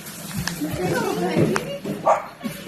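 Puppies give a few short yips and whimpers amid close talk, with the small barks scattered across the brief stretch.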